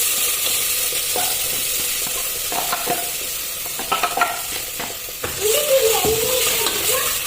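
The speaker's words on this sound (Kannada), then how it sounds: "ಇವಾಗ ರುಬ್ಬಿದ್ದನ್ನೆಲ್ಲ ಹಾಕ್ತಾ ಇದ್ದೀನಿ" Ground masala paste sizzling steadily in a hot pan for egg sambar, with a spoon scraping and stirring through it. The frying hiss stays loud and close throughout, and a faint voice comes through in the background.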